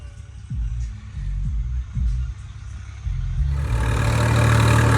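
A tractor pulling a seeder sowing wheat chugs at a distance with low throbbing pulses, then grows louder and rougher as it draws nearer.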